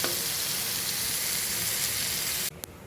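Fish in curry on a stove fries with a loud, steady sizzle and hiss that holds evenly, then cuts off abruptly near the end, leaving a quieter background with a brief clink.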